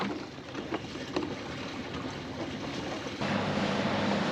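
A sailboat moves along the water under sail, a steady broadband wash of water and wind noise against the hull, continuous and close, swelling slightly louder near the end.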